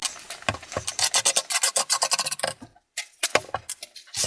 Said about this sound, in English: we'll just have to start by scraping some of this dust into my garbage can here